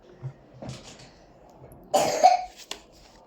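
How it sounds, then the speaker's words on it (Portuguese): A couple of short coughs, one louder and harsher than the first, close by in a quiet room. "Tá tossindo por quê?"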